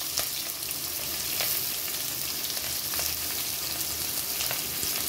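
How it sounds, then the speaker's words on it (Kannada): Onions frying in oil with cumin, mustard seeds and chilli, a dense, even close sizzle and crackle with occasional soft pops, no voices. "ಫ್ರೈ ಮಾಡಬೇಕು ಚೆನ್ನಾಗಿ ಬ್ರೌನ್ ಕಲರ್ ಬರೋದು."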